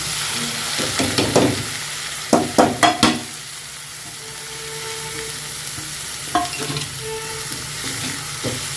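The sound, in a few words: onion and green chili frying in hot oil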